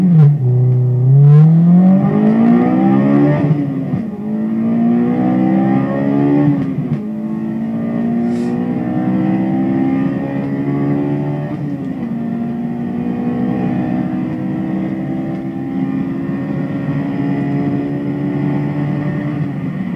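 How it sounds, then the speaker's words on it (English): A Honda S2000 inline-four engine revs repeatedly, each rise climbing in pitch then settling back to a steady high drone, loud and close, with no voices. "Now let's listen to the S2000. Remember, the Ferrari had a V8. This has an inline 4"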